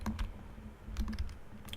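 Computer keyboard typing while docking a ship in Kerbal Space Program, a close, quiet run of irregular clicky keystrokes with small bursts and pauses over a steady low hum.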